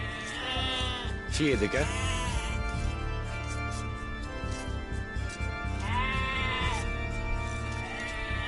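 Sheep in the strategy game Age of Empires 2 let out a few wavering bleats over a constant game music bed, with a brief spoken unit voice line.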